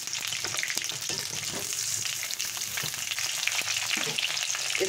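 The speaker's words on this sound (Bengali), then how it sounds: "আমি তেল দিয়ে দিয়েছি, তেলটা গরম হয়ে গেছে। এবারে আলুটা আমি দিয়ে দিলাম।" Potatoes fry in hot oil with a loud, continuous crackling sizzle and scattered pops throughout, no voices.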